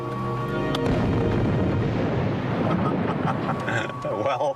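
Rockets strapped beneath a Ming dynasty-style astronaut chair ignite after a brief voice, bursting into a loud, dense roar that rumbles on continuously to the end, with voices faintly over it.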